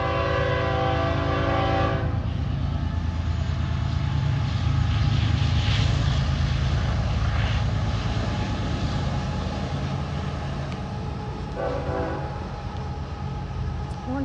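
At a railfan spot in Highgrove, a passing train sounds its horn in a couple of loud blasts over the constant heavy rumble of wheels and engines rolling by close.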